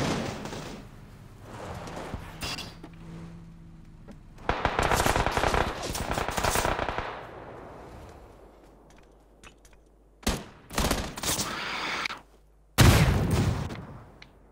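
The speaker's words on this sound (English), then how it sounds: "Oh, I'm being shot at." Gunfire in PUBG on the Miramar map: bursts of rapid automatic shots and single cracks, loud and close, interrupted by quieter stretches, with heavy sharp reports toward the end.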